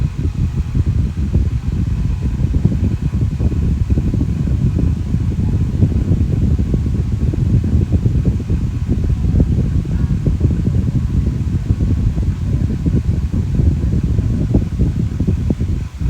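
An old electric fan that needs oiling runs steadily and loudly, a constant whirring drone with a rough rattling edge and no pauses.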